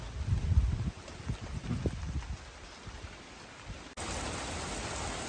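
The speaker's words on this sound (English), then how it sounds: "Today we're finally getting a decent rain that's more than just wetting the ground." Heavy rain falls outdoors over a garden with trees, a dense, steady hiss of drops with louder close patter at first and then an even downpour.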